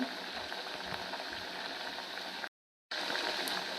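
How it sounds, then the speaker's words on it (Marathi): Methi vadi shallow-frying in oil over medium heat, a soft steady bubbling sizzle close by, broken by a short silent gap. "आता आपण एका साईडनं ह्याला छान शेकून घेत आहोत तेलामध्ये"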